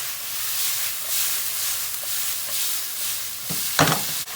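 Mushrooms sizzle in a hot pan, a steady bright hiss that swells and fades in gentle waves, with a brief louder crackle and clatter near the end.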